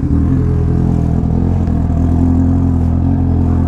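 A Honda Hornet motorcycle engine runs close by with a steady, loud, throbbing low rumble and slight clatter, holding fairly even throughout without clear revving.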